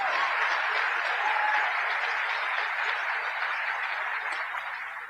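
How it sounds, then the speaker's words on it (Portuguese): Church audience applauding during a sermon, a steady wash of clapping and crowd noise held at an even level, moderately distant, tapering slightly at the end. "Eu não sei por que vocês estão aplaudindo"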